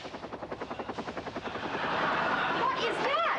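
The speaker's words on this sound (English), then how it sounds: "Daddy's chopper. He's here." A helicopter approaches and arrives overhead, its rotor chopping in a steady rapid pulse that grows into a loud continuous roar, with a voice speaking briefly in the middle.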